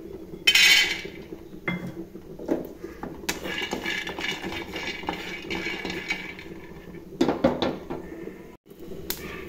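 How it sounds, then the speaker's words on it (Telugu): Peanuts dry-roasting in a pan on a stove for a Telangana-style dosakaya chutney, with close, irregular metallic clinks and scraping as they are stirred, and no voices. "ముందు కొన్ని పల్లీలు వేయించుకుందామండి."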